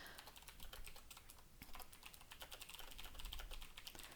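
Fingers type on a computer keyboard in a quick, irregular run of soft, close keystroke clicks, heard alone and fairly quiet.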